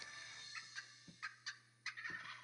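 A wild turkey gobbles in several short, rattling bursts, fairly faint and somewhat distant, over a low steady hum, with no talking.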